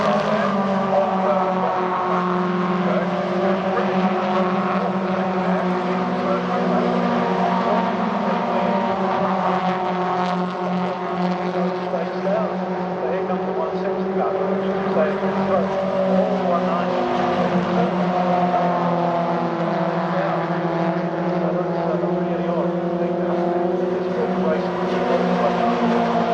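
MG ZR race cars lapping Silverstone GP circuit, a continuous engine drone with shifting harmonic tones of several cars passing, steady and loud from trackside, with a commentator's voice over the public address underneath.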